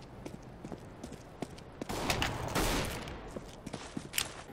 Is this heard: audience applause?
no